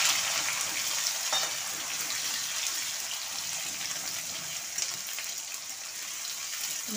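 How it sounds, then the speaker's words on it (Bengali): Two large onions sizzling in hot oil while a chilli sour chicken curry is being made, a steady, bright hiss of frying that stays fairly loud and continuous throughout, with no talking. "এবারে আমি বড় সাইজের 2টো পেঁয়াজ নিয়েছি, পেঁয়াজটাকে আমি তেলে দিয়ে দিলাম।"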